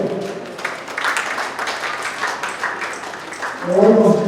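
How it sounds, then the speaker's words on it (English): Audience clapping for a chief and spouse at a writers union awards ceremony, a steady crowd patter that swells louder toward the end, with speech over it. "Please let's clap for them."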